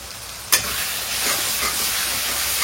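Onion and tomato frying in a pan with salt and turmeric for chicken curry, a loud continuous close sizzle with a brief sharp clink near the start.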